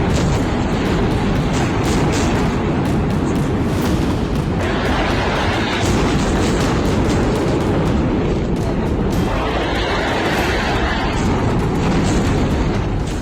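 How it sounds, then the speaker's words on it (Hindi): Constant heavy rumbling and booming blasts from bombing strikes in Gaza, loud and dense throughout, like a barrage of explosions rolling on without pause. "कई मील दूर तक धमाकों की आवाज जाती रही।"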